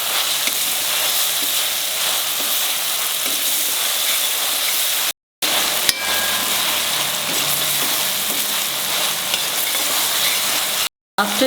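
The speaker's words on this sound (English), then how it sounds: "Fry this." Dried shrimp sizzle and crackle in a hot pan continuously, a dense frying hiss with two brief dropouts, no voices.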